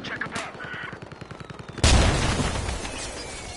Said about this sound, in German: jetzt ist die Karre halt explodiert